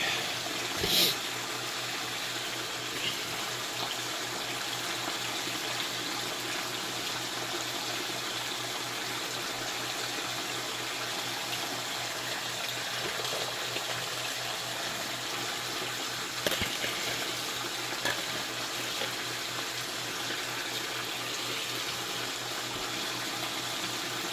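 In a basement gold panning setup, a steady stream of water washes over a panning mat, a continuous, even trickling and splashing that lasts throughout with a few brief knocks.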